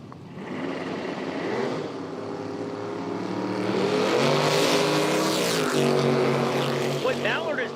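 Drag racing cars, a 1979 Mustang and a 1988 notchback, roar loudly down the racetrack, the engine note building and rising in pitch toward the end while a track announcer talks over the noise.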